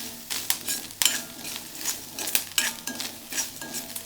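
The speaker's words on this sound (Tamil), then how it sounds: "கொஞ்சோண்டு எண்ணெய் விட்டு இதை சேஃபாக வறுத்துக்கோங்க." Ivy gourd frying in a little oil in a pan while it is stirred, with repeated scrapes and clinks of a utensil against the pan over a steady low sizzle, close and moderately loud, with no voices.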